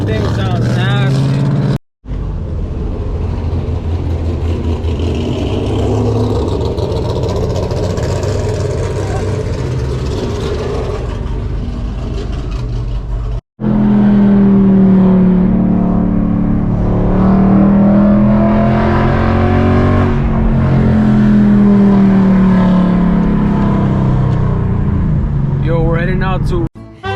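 A 2021 Ford Mustang GT with a 5.0 V8 and aftermarket headers revs loudly and close, its engine note rising and falling in repeated pulls, with people talking over it throughout.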